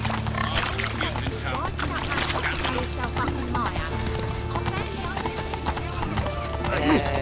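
Steady clip-clop of horse hooves from riding in The Witcher 3, a continuous moderately loud rhythm over a low ambient hum, with occasional whinny-like sounds and a voice speaking briefly.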